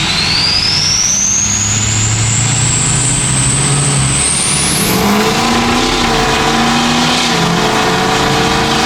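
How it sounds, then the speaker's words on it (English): A Ford 6.0 Powerstroke diesel pickup pulls hard at full throttle, its loud engine drone climbing steadily alongside a rising turbo whistle, then easing and shifting into lower, uneven tones as the truck keeps accelerating. "After I get pulled out onto this road, then I'm gonna put it to the floor pretty much"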